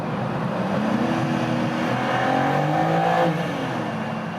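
A sports car engine revs and climbs in pitch, echoing inside a tunnel, then settles back down.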